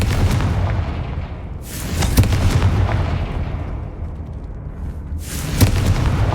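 Fiery Confringo spell blasts from Hogwarts Legacy, booming explosions with rushing bursts recurring roughly every few seconds over a dense, loud rumbling background, with no voices.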